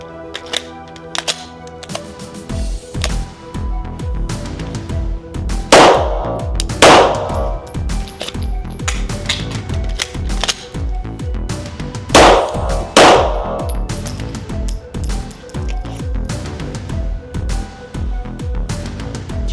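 A Glock 17 laser training pistol in a tactical shooting drill, giving sharp mechanical clicks and clacks in irregular bursts, with several louder metallic impacts spaced through the sequence.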